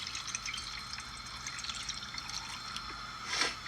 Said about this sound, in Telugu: దీంట్లో నీళ్ళు పోయాలి ఇప్పుడు నీళ్ళు పోసి ఉడకబెట్టాలన్నమాట